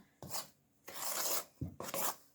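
A spoon scrapes and stirs through thick pizza dough in three rasping bursts, close and quiet, with short pauses between strokes.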